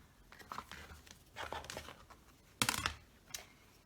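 Excess fabric is trimmed from a quilt block against a ruler: several faint, crisp scraping cuts in short bursts, with the sharpest one near the end, heard close-up in a quiet room.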